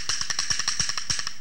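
Rhythm bones held with two fingers between them, rattling out a quick, even run of sharp clicks, about a dozen crisp hits close up and alone.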